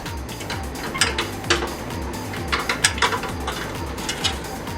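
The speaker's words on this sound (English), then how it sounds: "loosen this clamp here that ties the header to the muffler so we can rotate this muffler out a bit in order to slide the center muffler out" Metallic clanks and scraping rattles as a Porsche 991 GT3 center muffler is rotated and slid out from under the car, with irregular bursts over a steady low mechanical hum, close by.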